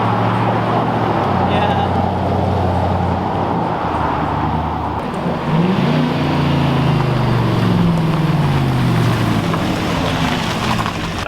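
Pickup truck with a 4-inch lift kit passing by, its engine rumble rising and then dropping as it downshifts, under steady traffic-like road noise and a brief spoken word.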